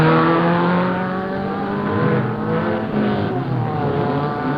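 A big Ford Mustang race car climbs the 1972 Knox Mountain hill climb, its engine loudly revving and rising through gears in a sustained, close roar with no speech.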